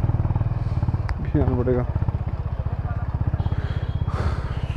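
A Honda RS 350 motorcycle idles close by with a steady, low, pulsing exhaust thump under brief talk in Hindi.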